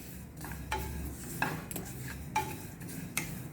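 Sesame seeds dry-roasting in a hot pan for gun masala chutney powder, with a spoon scraping and stirring in repeated close strokes about once a second over a faint low hiss, no voices.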